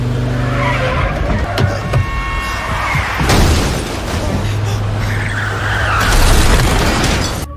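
Cars skid and crash in a chain-reaction accident, with loud tire squeals, screeching slides and heavy impact booms mixed with engine noise over several seconds.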